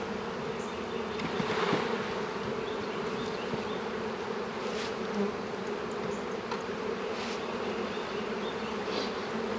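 A dense, steady hum of many honey bees buzzing close by as they are shaken from a hive frame, continuous and loud, with occasional faint knocks and rustles beneath.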